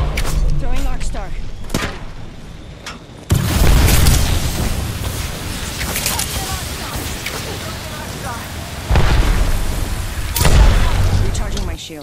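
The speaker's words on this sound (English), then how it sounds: "Throwing Arcstar." Arc Star grenade blasts in Apex Legends combat, a sudden loud boom at about three seconds followed by sustained gunfire and crackling, with further heavy bursts later, over game sound and voices.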